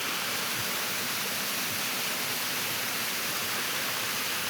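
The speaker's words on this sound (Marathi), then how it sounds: "डोंगरातून कसं पाणी कोसळतं" Water cascading down a mountainside beside the Mumbai–Goa highway at Mahad, a steady, broad hiss of falling water that stays even and unbroken throughout, moderately distant and with no voices.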